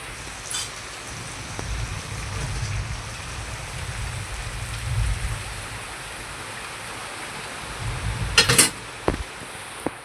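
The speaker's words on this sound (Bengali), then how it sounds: "এবারে আমি হচ্ছে জল ঢেলে দেবো" Water pours into a pan of home-style Bengali chicken curry with potatoes, a soft continuous splashing gush near the pan, followed by a few sharp clinks of utensils against the pot near the end.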